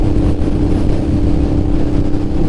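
A Honda NT650 motorcycle rides along a twisty road, its engine a steady, close drone blended with wind rush and no clear shifts in pitch.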